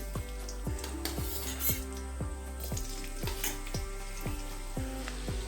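Chopped garlic sizzles steadily in about two spoons of white oil, with a regular ticking pulse running underneath the hiss.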